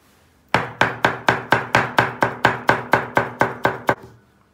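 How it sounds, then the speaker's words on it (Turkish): Rapid, even knife chops through parsley on a cutting board, about fourteen crisp strikes in a row, close and clear, with no voices. "Üzerine çok az bir de maydanoz doğrayacağım."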